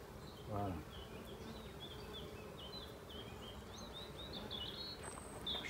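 Honeybees hum steadily around an open hive frame of capped brood during a beekeeping session, a soft, continuous drone with a few brief nearby buzzes passing close.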